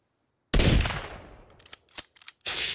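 A sniper rifle shot in a survival video game fires as one loud, sharp blast with a long decaying tail, followed by a few softer clicks and thuds and then a burst of bright noise at the end.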